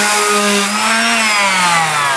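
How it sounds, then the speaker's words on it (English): A finish sander fitted with a quarter sheet of sandpaper works against a wood turning, a loud, steady, close motor buzz with a slightly wavering pitch. "I've got my finish sander here that takes quarter sheets of sandpaper"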